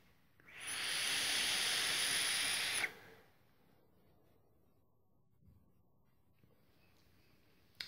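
A draw on an e-cigarette filled with chocolate e-liquid gives a close, steady airy hiss that lasts about two seconds and then stops sharply, followed by near silence with a faint soft exhale.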